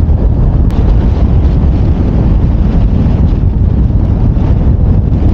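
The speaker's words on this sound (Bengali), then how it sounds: "প্রচুর বাতাস আর ঠান্ডা বাতাস, চিল ঠান্ডা বাতাস পুরো জমিয়ে দিচ্ছে।" Strong, cold wind roars steadily across the microphone on the high Leh–Manali highway near Sarchu in Ladakh, a dense continuous buffeting rumble with no pauses and no talk.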